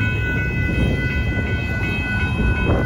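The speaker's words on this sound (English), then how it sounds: "a rock train." A Union Pacific rock train rumbles steadily past at Dittmar Road in Austin, Texas, its loud, continuous roar carrying faint rhythmic clacks from the cars.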